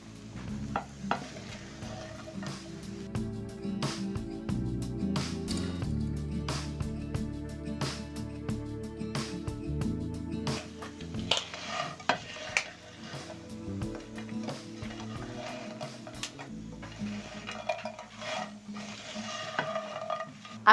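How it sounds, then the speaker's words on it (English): Pan-fried potatoes with fresh rosemary are tossed and stirred in a frying pan, a quiet ongoing sizzle broken by frequent clicks and knocks of a utensil against the pan. "Now I'm going to add in some fresh rosemary. Toss around."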